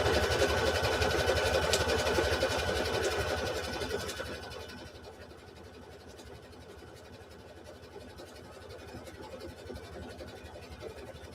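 A sewing machine runs steadily along the edge of a quilt block, stitching the front and back together. It makes a continuous mechanical whir that is louder for the first few seconds and then settles to a softer, even hum.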